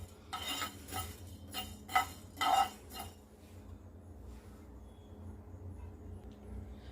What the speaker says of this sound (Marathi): 1 टेबलस्पून मेथीदाणे हे आपल्याला 1 मिनिटभर परतून घ्यायचे